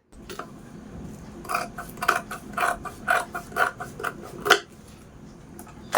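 A sewing machine stitches down both sides of a fabric sling bag, worked from the right side, in several short rhythmic bursts of mechanical whirring and clatter separated by brief pauses, fairly close and with no talking.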